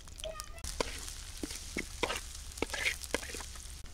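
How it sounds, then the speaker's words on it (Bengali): Cauliflower fries in oil in a pan with garlic and green chilli, a low sizzle broken by scattered clinks and stirring knocks, while a voice talks over it. "ফুলকপি দিয়ে ভাজি করবো, তেলটা দিয়ে দিই।"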